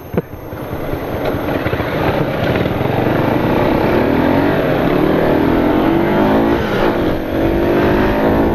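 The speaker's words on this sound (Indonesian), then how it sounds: "Wah, laju motor eh." A motorcycle fitted with a V-Booster roars loudly at speed close by, its engine note climbing steadily as it revs, with constant wind rumble and no talking.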